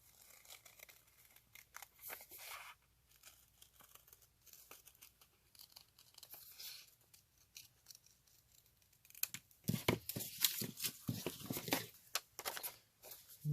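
Scissors snip through paper pages being cut out for a junk journal, quiet scattered cuts and rustling at first, then a run of louder, crisp snips and crinkles near the end.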